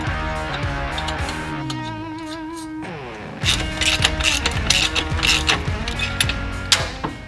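Ratchet wrench on a long extension with a short ball-end socket, working the rear exhaust flange nut on a Harley Dyna: quick close-up bursts of clicking, first a steady run of ticks, then sharper irregular ratcheting strokes.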